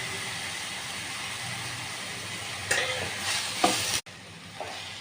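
Chopped tomatoes fry in a pan with sesame seeds for a tomato chutney, giving a steady close sizzle with a few stirring scrapes and a sudden short drop near the end.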